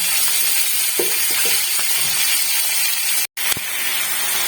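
Onion, tomato, cashew, ginger, garlic and garam masala fry in a hot pan with a loud, steady sizzle and hiss, broken by a brief dropout and a clatter near the end.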